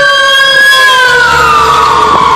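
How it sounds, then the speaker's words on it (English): A big fire engine passing by with its siren wailing on a freezing cold day in York, PA, loud and close, a steady high wail that bends downward as it passes, with engine rumble underneath. "right now there is a big fire engine coming by"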